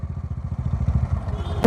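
A motorcycle engine idles up close with a steady, loping thump, then ends in a brief clattering knock.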